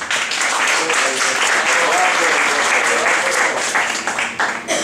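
An audience at a vocal contest event claps loudly and continuously, a dense wash of applause that holds steady before thinning out near the end.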